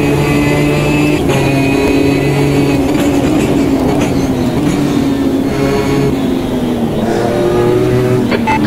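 GT4 race cars roar around the Guapore circuit in Automobilista 2, engines droning loud and steady as they rev and shift, with several cars close together and whooshing past.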